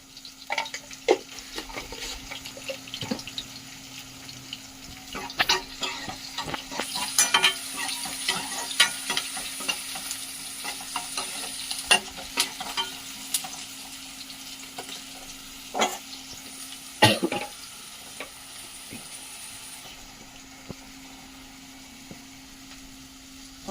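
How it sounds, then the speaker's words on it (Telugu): Chopped onion and green chili fry in oil for a snail curry, a steady soft sizzle punctuated by scraping stirs and sharp clinks of a spatula against the pan, close and without talk. "ఆనియన్ పచ్చిమిర్చి అయితే వేగిపోయింది"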